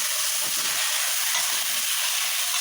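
Potatoes tipped into spiced masala fried down with coriander and cumin powder, sizzling loudly and steadily in a pan with a constant hissing fry and no voices.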